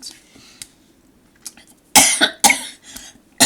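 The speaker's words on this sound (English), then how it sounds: "I've got this tickle cough that I can't get rid of." A person with a tickly cough coughs in a few harsh, close bursts, preceded by quieter throat sounds and breathing, with no other sounds around it.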